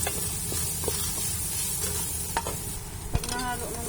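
A spoon stirs rice seasoned with turmeric in a pan of hot oil, a steady sizzle and hiss running underneath scattered scraping clicks and a couple of sharper knocks.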